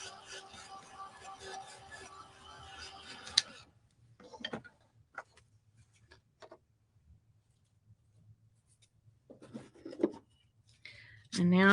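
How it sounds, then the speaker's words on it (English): Sandpaper rubbing around the edges of a chunky wooden craft star, a dense scratchy rasp for a few seconds followed by sparse, faint scuffs and light taps close by. "we're going to go around and sand these edges anyway"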